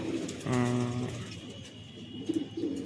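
A male pigeon brought from Kanpur gives a drawn-out, throaty coo close by, followed by a couple of shorter soft coos.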